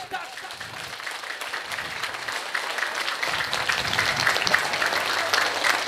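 Sustained applause from an audience at a couple's sixtieth wedding anniversary celebration, including women, a dense, steady wash of clapping that swells slightly louder over several seconds, with voices mixed in.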